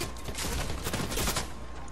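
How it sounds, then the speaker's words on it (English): Rapid gunfire in a PS4 battle game, heard as a dense continuous burst of shots from behind the player, loud and unbroken with no talk over it. "Shots behind us, bro."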